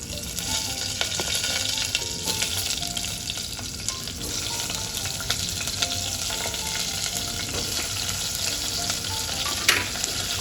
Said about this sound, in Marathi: हे सर्व भरलेले वांगे मी त्या तेलामध्ये टाकणार आहे